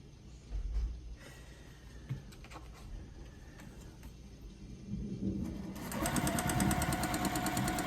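A sewing machine stitches fabric pieces for a scrappy Americana quilt flag, its steady mechanical whir running throughout, briefly joined by scattered knocks and handling noises and growing louder and denser near the end.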